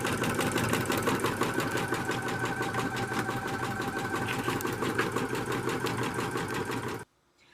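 A Brother sewing machine runs at a steady, fast rhythmic chatter of needle strokes, close and loud, then stops abruptly near the end.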